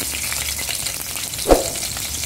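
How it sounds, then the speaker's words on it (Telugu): Slit green chilies drop into hot oil for a spicy chicken dish, and the pan answers with a loud, steady sizzle and one sharp crackling burst partway through. "ఆయిల్ వేడెక్కింది. ఇప్పుడు పచ్చిమిరపకాయలు, స్లిట్ చేసిన పచ్చిమిరపకాయలు వేద్దాము."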